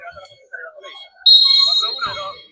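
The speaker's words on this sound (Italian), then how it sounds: "Viene fischiato un'invasione." A referee's whistle blows sharp and steady to call a net fault during a volleyball final, standing out loudly above the commentary voices and crowd.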